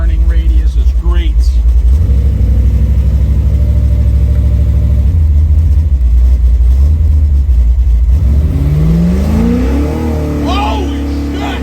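A 1972 Chevrolet Chevelle with a 496 big block V8 revs hard and close, its deep rumble climbing and falling through several throttle blips. Excited voices shout over the engine near the end.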